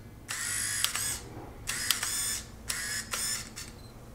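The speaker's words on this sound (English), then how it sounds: "I'm gonna try and take a trial photo to see if this actually works." A Minolta Maxxum 7000 film camera set to autofocus whirs and clicks close up in several short motorized bursts separated by brief pauses, each ending in a sharp mechanical snap, quiet and without talk.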